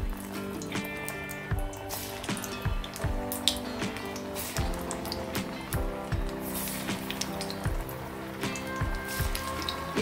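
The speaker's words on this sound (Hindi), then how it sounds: "चलिए अब इनको फ्राई करते हैं।" Chana dal vada patties bubbling and crackling in hot oil, a steady busy sizzle with sharp spits and pops repeating over the whole span, close and fairly loud with no voices.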